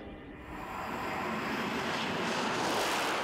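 A steady, broad rushing roar of a high-speed train between Córdoba and Málaga passing close, building slightly in loudness and holding a dense wind-like hiss throughout.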